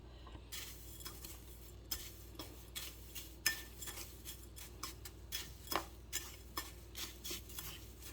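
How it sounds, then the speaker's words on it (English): Chicken fried steak mixture seasoned with salt and pepper, stirred in a bowl with a utensil, giving soft scraping swishes and light clinks at a steady pace, close and quiet, with no talking. "And then we're going to mix it up."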